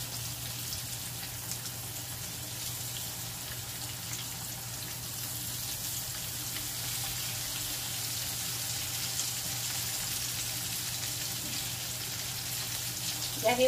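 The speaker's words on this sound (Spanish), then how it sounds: "Y aquí vamos a freír toda la yuca." Pieces of boiled yuca (cassava) frying in hot oil for Salvadoran-style yuca frita, a steady dense bubbling sizzle that holds evenly throughout, with a small clatter right at the end.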